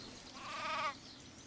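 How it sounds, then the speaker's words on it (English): A single sheep bleats in the video game Craft The World, a short wavering cry rising over a quiet ambient backdrop, fairly close and alone with no talk. "That sheep is down there."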